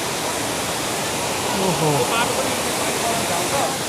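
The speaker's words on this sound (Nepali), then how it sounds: "फाइनली झरना आइपुग्यो" A roadside waterfall on the route to Hile Bazar pours in a constant loud rush, while a voice briefly exclaims over it.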